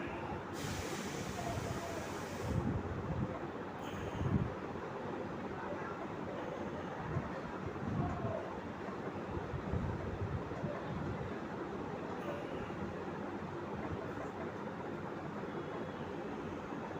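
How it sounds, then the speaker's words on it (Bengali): Inside an AC first class train coach at night, a steady low rumble and rushing roar of the moving train continues throughout, with faint rhythmic thumps from the wheels. "ট্রেন বিভিন্ন স্টেশন ক্রস করছে"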